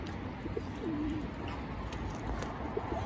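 Pigeons cooing nearby outdoors, a few soft low rolling coos over steady background murmur and rustle, fairly faint and without talking.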